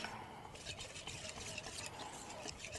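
Water is poured into a thick peanut butter sauce for chilled soba noodles, a soft trickling and splashing close by, quiet and continuous.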